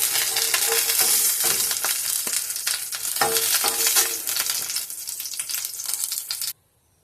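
Eggplant pieces frying in oil in a wok over a lowered gas flame, a steady loud sizzle with scattered crackles and brief clinks of stirring, cutting off abruptly near the end.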